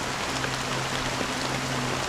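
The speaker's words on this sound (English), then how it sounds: "How long has this rain been ongoing?" Steady rain falling in Honkai: Star Rail, an even, close hiss of drops on surfaces that holds unchanged throughout with no talk.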